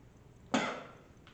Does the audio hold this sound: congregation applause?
no